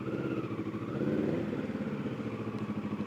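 A motorcycle engine runs at a low, steady, slightly uneven idle while the bike pulls in to park outdoors. The rumble is close and continuous and rises a little partway through before settling again.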